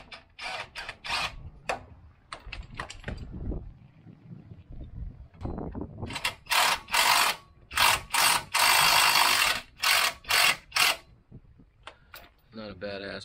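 Small cheap cordless impact wrench driving bolts on a 2003–2006 Chevrolet Silverado front suspension: repeated loud bursts of rapid hammering ratchet, several short pulses separated by pauses, with someone talking in between.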